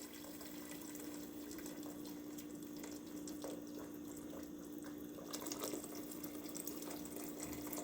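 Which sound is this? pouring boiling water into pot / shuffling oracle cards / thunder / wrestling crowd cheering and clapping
pouring boiling water into pot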